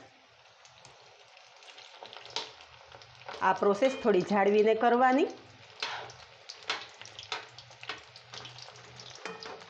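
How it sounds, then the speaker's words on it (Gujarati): Peanut bhajiya with special masala fry in hot oil, giving a faint steady sizzle under a burst of nearby talk and a few light spoon clinks. "જેમ જેમ તેલમાં સિંગ ભજીયા તળાતા જશે એમ એમ છૂટા પડતા જશે"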